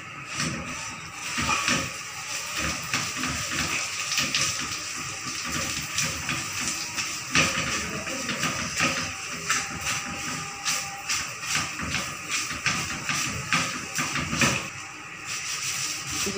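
Vermicelli frying in hot butter in a home kitchen: a steady, close sizzle with soft rustling and scraping as the strands are stirred, continuing without pause.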